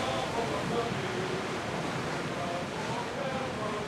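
Ocean waves in the video game Assassin's Creed Odyssey give a steady, dense wash of surf and wind that roars without pause at close range.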